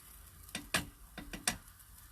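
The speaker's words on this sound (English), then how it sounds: "Now I'm not like crazy stirring the eggs" Eggs with tomato frying in a pan while being gently stirred, a soft sizzle broken by four or five sharp utensil scrapes and taps against the pan in an uneven rhythm, close by with no voices.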